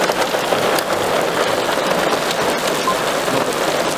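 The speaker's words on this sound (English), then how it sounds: "Some hailstones appearing." Hailstones falling during a thunderstorm in County Fermanagh, Northern Ireland, a dense, constant pattering and drumming on surfaces, loud and unbroken with no voices.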